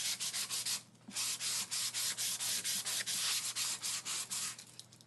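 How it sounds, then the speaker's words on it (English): Steady back-and-forth strokes of sandpaper on wood, rhythmic and close, a brief pause near the start, then continuous rasping scrubs until the end. "sanding, sanding, sanding."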